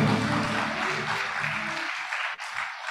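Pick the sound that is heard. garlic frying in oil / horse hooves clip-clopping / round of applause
round of applause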